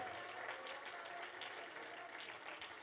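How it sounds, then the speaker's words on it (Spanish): A church congregation applauds for the Lord during a Spanish-language sermon by Pastor José Luis Hernández. Steady, dense clapping from the crowd sounds faint and distant, continuing evenly throughout. "Si ese aplauso es para el Señor, déselo con todo el corazón, amado hermano"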